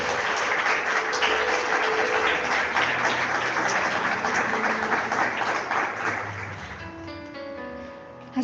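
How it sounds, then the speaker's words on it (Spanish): A church congregation claps in sustained, dense applause for a long stretch, steady and loud before tapering off near the end as faint music tones enter. "Démosle un aplauso a nuestro amado Señor."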